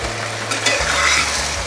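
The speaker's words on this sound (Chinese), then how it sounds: "甜豆放进来，大概炒一个30几下，就可以准备起锅" Sugar snap peas stir-fried in a wok with tofu and Chinese yam over medium-high heat, a steady close sizzle with scraping stirs and a couple of sharp clinks, no talk.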